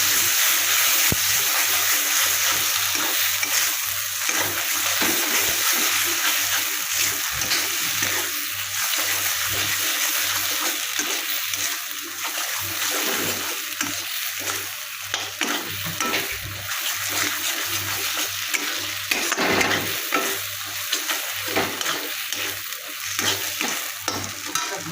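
Goat brain being sautéed with poppy seed paste in a pan, a continuous hissing sizzle with frequent scraping stirs, close and steady with no talk.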